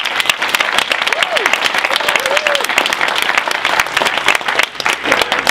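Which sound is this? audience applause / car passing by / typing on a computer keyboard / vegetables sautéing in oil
audience applause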